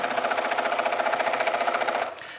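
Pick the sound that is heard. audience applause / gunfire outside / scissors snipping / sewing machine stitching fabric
sewing machine stitching fabric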